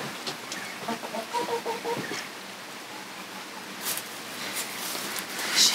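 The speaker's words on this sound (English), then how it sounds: "The chicken just went in the nesting box." A chicken by its nesting box in a coop bedded with pine wood shavings clucks in a short run of close, rhythmic notes early on, followed by quieter rustling and faint background noise.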